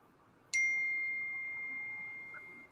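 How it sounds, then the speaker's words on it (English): A single bright phone notification ding rings out in a room where people are gathered for a football game, sustaining a clear tone that fades slowly over a quiet background. "Whose phone is that?"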